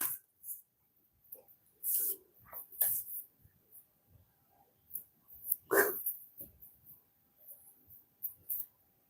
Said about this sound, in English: My dog is in the house whining because everybody's outside and I'm out here.